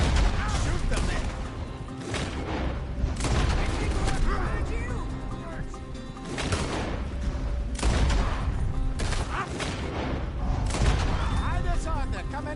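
Gunfire during a Red Dead 2 shootout in an alley, repeated loud shots and crashing impacts spread through the whole stretch, mixed under frequent shouting voices.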